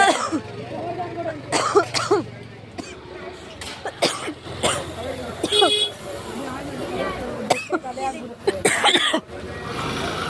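Someone coughs several times in short bursts amid a busy, dusty vegetable market, with people talking around and background chatter.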